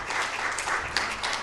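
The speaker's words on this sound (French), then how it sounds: "On peut les applaudir, mesdames et messieurs." Audience applause for panel speakers at a business forum on sustainability, dense steady clapping from a crowd throughout, fairly close and loud with no talk.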